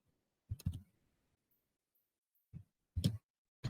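A computer mouse clicks in a web dashboard: a pair of quick close clicks, a pause, then several more crisp clicks in a quiet room.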